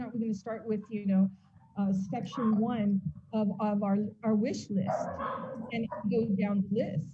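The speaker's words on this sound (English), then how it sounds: "Sorry, that's my dog." A pet dog barks and yips in short repeated bursts, fairly close, over and between a person talking during a video-call meeting, with a couple of whimpering yelps mixed in.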